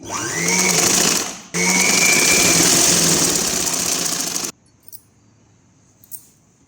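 A sewing machine stitches an umbrella long frock in a loud, steady whirring run that briefly pauses and resumes, then stops abruptly, leaving near silence with two faint clicks.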